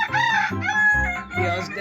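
An Egyptian Fayoumi rooster on a village farm crows nearby, loud and clear, in a drawn-out harmonic call that rises and falls across the whole clip.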